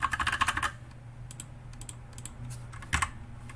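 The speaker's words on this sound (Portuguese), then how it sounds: "Se eu digitar outra coisa aqui, ó," Someone types on a computer keyboard close by, with a quick burst of clicking keystrokes, a few scattered taps, then another short flurry of keys.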